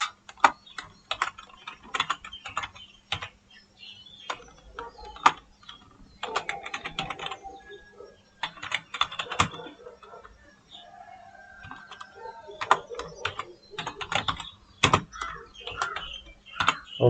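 Clicky computer keyboard typing a map title in QGIS, quick irregular bursts of keystrokes with short pauses, close and fairly quiet, no talking over it.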